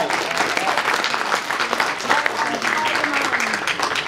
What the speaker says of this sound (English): So you guys need to give yourself a round of applause.